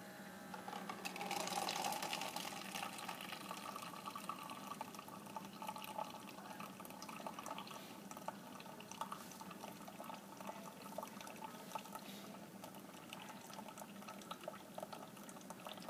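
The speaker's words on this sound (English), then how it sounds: "We hit the brew button." A Keurig coffee machine brews fresh ground coffee, giving a faint steady whirring hum with gurgling, bubbling water throughout and no talk.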